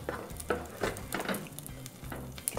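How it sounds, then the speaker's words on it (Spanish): Bacon fries in a little oil in a pan, a faint sizzle broken by soft scraping stirs at an irregular rhythm. "Primero con un poquito de aceite y freímos el tocino"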